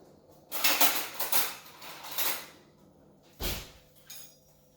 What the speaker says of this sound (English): let me get a fork to stir that with